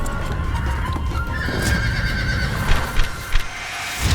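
Horses of a rare breed from Zhaosu County, China, whinny in sharp, repeated bursts near the end while hooves clip-clop steadily throughout at close range over outdoor ambience.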